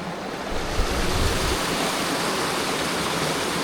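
Water churns loudly in a cold stream pool at the foot of a hidden waterfall in Deep Gap, North Carolina, a continuous close rushing roar with a slight swell early on and no voices.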